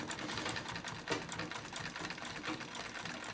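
A sewing machine stitches through leather for a quilted book cover, giving a steady, rapid mechanical whir with fine rhythmic clatter throughout, moderately quiet and with no talk.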